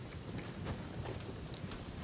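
Steady rain falling in a video game, a continuous hiss of drops on surfaces with a faint low rumble beneath, heard alone without talk.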